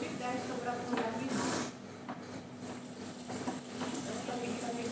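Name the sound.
water from tap filling container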